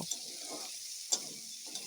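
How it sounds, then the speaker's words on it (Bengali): Diced potatoes frying in oil with salt and turmeric give off a soft, steady sizzle with a few light ticking pops, close by and fairly quiet. "নুন হলুদ দিয়ে আলুগুলি লাল করে ভেজে নেব"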